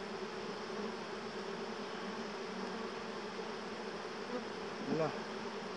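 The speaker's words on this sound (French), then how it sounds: "Il y a vraiment beaucoup d'abeilles." Many honeybees from a very populous, strong colony swarm in a constant, dense buzz while a hive frame is inspected, with a brief nearer fly-by near the end.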